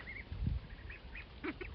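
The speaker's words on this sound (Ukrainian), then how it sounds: "а сіренька, звичайна крякаюча качечка така" Domestic ducks in a backyard poultry pen give several soft, scattered quacks at close range, with a brief rustling of foraging underneath.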